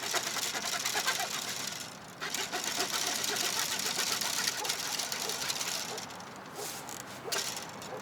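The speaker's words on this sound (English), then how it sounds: "So I'm gonna try to cut this off right here." A small folding saw blade from a survival cane rasps back and forth through a branch close by, a steady run of scratchy strokes with a brief pause near two seconds and a few uneven, weaker strokes toward the end.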